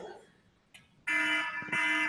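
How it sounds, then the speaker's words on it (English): An electronic time-warning buzzer at an international business conference sounds in two loud, sustained tonal blasts after a brief quiet pause, with faint voices just before. "after 2 minutes, we'll be like informing you with the beep or with the buzzer"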